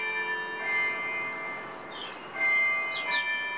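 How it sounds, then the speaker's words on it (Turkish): A church bell rings with a steady sustained tone that swells slightly, heard at a distance amid outdoor ambience, with faint higher chirps above it. "Kilise çanı çalıyor da sesin iyi gelmiyor."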